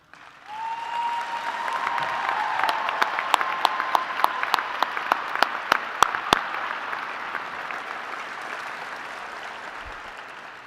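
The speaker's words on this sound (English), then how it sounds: "If we could all give a round of applause." Sustained applause from a high school graduation audience fills a large hall, a dense steady wash with a few sharp, close individual claps standing out, then fading slightly toward the end.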